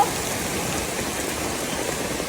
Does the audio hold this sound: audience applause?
no